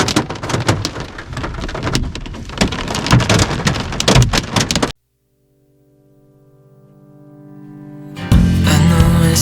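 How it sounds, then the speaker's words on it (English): Heavy, dense drumming of hail on a truck roof in Utah, then a sudden cut to near silence with a faint rising hum before the loud pelting resumes. "this time there's hail"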